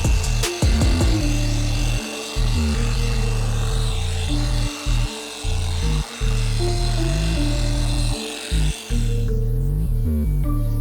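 A dual action polisher spreads polish across car paint in preparation for a ceramic coating, its loud steady motor hum rising and dipping as it is briefly stopped and restarted several times.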